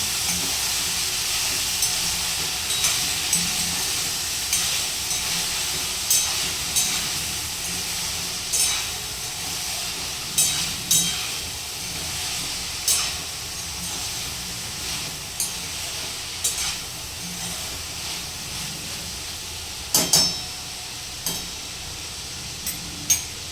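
Brinjal curry sautéing in a pan, a continuous close sizzle and hiss broken by repeated spatula stirring scrapes at an uneven rhythm, with no talking.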